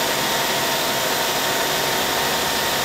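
A 1998 Hitachi Seiki HT23J CNC lathe spinning its spindle at 4,000 RPM gives a steady, even high-pitched whirring hum that holds constant and close throughout, with no talking.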